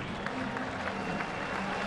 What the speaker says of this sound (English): So Dontrelle leaves to another big round of applause.